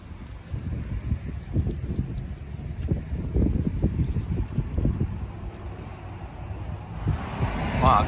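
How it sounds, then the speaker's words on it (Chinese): Strong wind gusting at Kumoba Pond in Karuizawa, Nagano, buffeting the microphone with low rumbling roars that rise and fall irregularly, close and loud throughout. "今日都几大风。"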